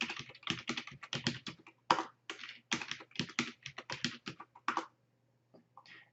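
Password typed on a computer keyboard during a Linux Ubuntu setup, heard as rapid, close clicking keystrokes in several bursts with short pauses, then a brief quiet stretch and a few final taps.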